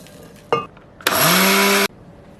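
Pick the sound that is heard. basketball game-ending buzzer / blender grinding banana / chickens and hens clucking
blender grinding banana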